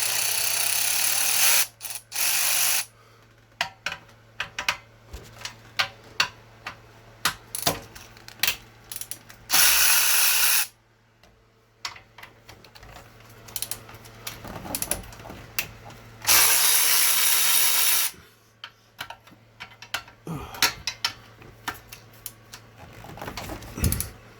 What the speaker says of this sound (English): I'm going to throw a wrench on it really quick.